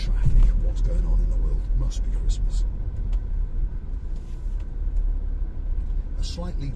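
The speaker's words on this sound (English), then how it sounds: "Gridlock traffic, what's going on in the world?" A car idles and creeps through gridlocked Christmas traffic near Paphos, Cyprus, giving a steady low rumble from the road and engine with scattered higher noises from the surrounding vehicles.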